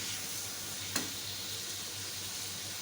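Potatoes fry with turmeric and spices in a pan, a soft, steady sizzle with a single brief clink of stirring. The hiss is faint and continuous, close up, with no voices.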